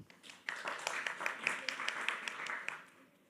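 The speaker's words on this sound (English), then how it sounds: "please give a round of applause to him" Audience applause at a startup awards event, a steady wash of clapping from a moderate-sized crowd, fairly faint and distant, swelling in and tapering off after about three seconds.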